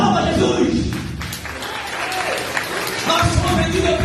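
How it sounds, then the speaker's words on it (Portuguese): A church congregation applauds during a sermon, a sustained burst of clapping mixed with voices and background music. "Aplauda Jesus."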